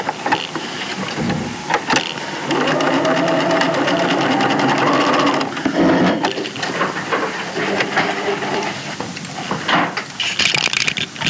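A sewing machine stitches a pocket seam on a garment with a continuous whirring hum, close and moderately loud, with some clicks and rustling of fabric around it and no talk.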